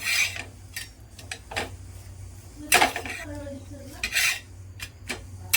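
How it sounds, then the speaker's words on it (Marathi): Homemade papad roasting on a griddle with a little oil, heard as scattered clinks and scrapes of a utensil on metal with brief crackles, close by, with a voice talking in the background at times. "हा दुसरा पापड सुद्धा भाजून घेते"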